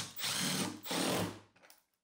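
A drill driving screws into wood, heard as two close whirring bursts of roughly half a second each, then a short, weaker rattle before quiet; fairly soft overall, with no speech.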